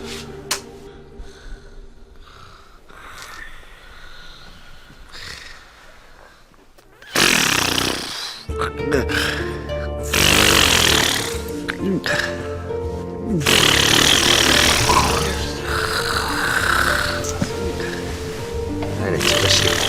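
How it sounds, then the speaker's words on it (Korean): Loud, rough snoring from a sleeping soldier in a military barracks comedy scene, with breathing through the mouth after the nose is blocked; ragged repeated bursts grow stronger after a quieter stretch, with voices talking around it. "나는 저것이 코를 골아서 코를 막아놨더니 입으로 코를 골고 있어."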